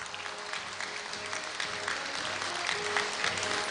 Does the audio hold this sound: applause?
yes